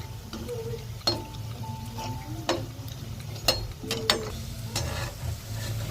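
Sago vadai frying in hot oil: a low continuous bubbling sizzle punctuated by sharp clicks and scrapes of a utensil turning the fritters, close and moderately loud, with no speech.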